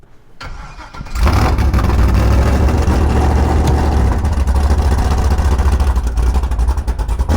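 A 700-horsepower 4x4 Cadillac cranks and fires up, then its engine roars and revs loudly with a deep rumbling throb that holds steady and close, with no talking.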